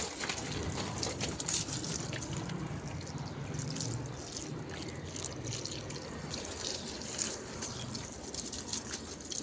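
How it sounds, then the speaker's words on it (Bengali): A tomato plant being watered: a continuous close splashing and gushing of water with irregular spatters and drips, steady throughout. "এই টমেটো গাছটায় জল দিলাম"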